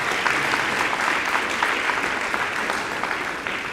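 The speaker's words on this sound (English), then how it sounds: "Please round of applause" A university music school convocation audience applauds for a string quartet. The clapping is full, dense and sustained at an even level for the whole stretch.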